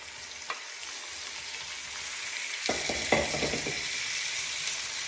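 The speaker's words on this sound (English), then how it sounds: "And I will immediately add my eggplant." Eggplant dropped into a hot pan for a Lebanese moussaka sets off a loud, dense sizzle that jumps up sharply partway through and keeps hissing steadily, with light stirring clatter close by.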